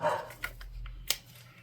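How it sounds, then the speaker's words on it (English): Dogs barking indoors while a package is delivered, with a few short, sharp barks and yips at a distance that come in separate bursts over a quiet room. "Amazon's delivering, so the dogs are like freaking out."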